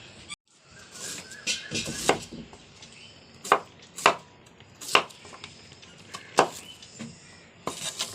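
Vegetables being chopped for sambar, a Kerala lentil curry: a knife hits the cutting board in sharp, irregular close strikes, some loud and some softer, with short pauses between cuts.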